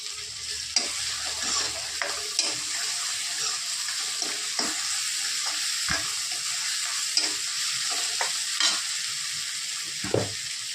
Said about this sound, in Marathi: आता टाकत आहोत कोथिंबीर लसूण आणि जिरे